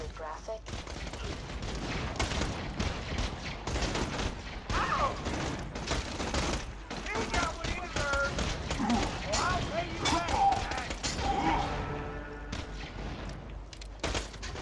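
Rapid bursts of gunfire from the video game Borderlands 2 crackle almost continuously, mixed with booms and mechanical clatter, while co-op players talk over the shooting.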